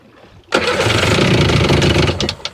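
A Sea-Doo RFI 787 jet ski engine with a hard-starting problem cranks briefly, then catches and roars into a loud, steady run that holds close and strong before rough sputters at the end.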